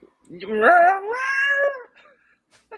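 A single cat's drawn-out meow rising and falling over about a second and a half, fairly close and clear, with a faint short sound after.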